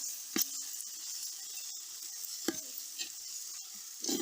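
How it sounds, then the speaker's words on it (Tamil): Chili powder sizzles softly in hot oil for a village-style rabbit curry, with a steady fry hiss and a few sharp scrapes and clinks of a spoon stirring the pan, close up and without speech. "குழம்பு மிளகாத்தூள் சேர்த்து இதிலே வதக்கிக்கிறேன் எண்ணெயிலே"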